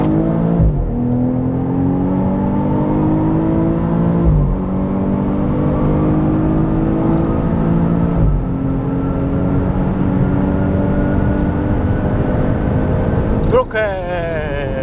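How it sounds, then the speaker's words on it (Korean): A BMW X4 M40i accelerating hard in Sport Plus with the transmission in S mode, its engine pulling strongly through rising revs with distinct upshifts every few seconds, loud and steady from inside the cabin. "변속기는 좌측으로 밀어서 S 모드 상태에서 가속 성능 테스트를 진행해 보도록 하겠습니다"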